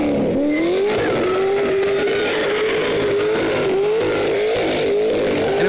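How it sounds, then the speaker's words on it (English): An HSV Murph Edition car skids round the Pukekohe track, with tyres squealing in a long, wavering howl over a loud, raspy engine that rises and falls, close by and continuous. "James was also generous enough to let us take it for a quick skid round Pukekohe."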